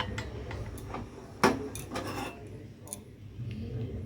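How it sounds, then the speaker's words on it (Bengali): Tea being strained at home, with small clinks of dishes and utensils, one sharper clink standing out, quiet and close, under faint background voices. "এখন চাগুলোকে ছেঁকে নেই।"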